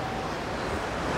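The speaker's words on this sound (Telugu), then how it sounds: "జలపాతాల హోరు అనేది స్టార్ట్ అయిపోయింది" Athirappilly waterfall in Kerala, a very large cascade throwing up white spray, roars as a steady, dense wash of noise, loud and close, with no voices over it.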